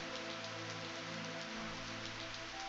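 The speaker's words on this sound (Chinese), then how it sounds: "下雨了" Rain falls in the Chinese fantasy game Gujian 1 as a steady, dense patter heard alone over a faint tonal music drone.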